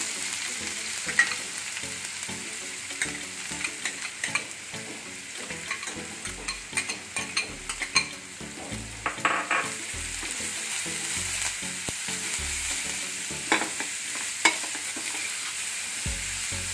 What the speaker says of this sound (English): We need to saute the onions till they are nice and light brown.